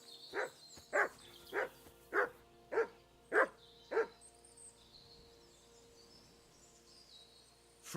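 Mutt, a dog in the video game Kingdom Come Deliverance 2, barks seven times in a steady, evenly spaced run at moderate distance, followed by a few seconds of quiet ambience.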